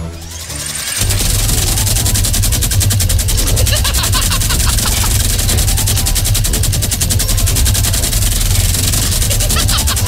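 Sustained automatic gunfire in the Fortnite video game, a loud, rapid rattle that bursts in after a second of quiet and keeps firing almost nonstop to the end, dense and close with no pauses.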